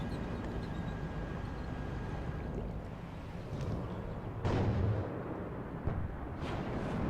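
Anti-aircraft fire in the war strategy game WARNO, a continuous rumbling battle din with a few louder booming bursts near the end, heard at a moderate distance without speech.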